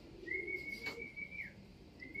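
Pet pigeons at a San Jose training loft give faint, thin calls, a sustained whistle-like note with a brief break and another starting near the end, heard at a distance over outdoor background noise.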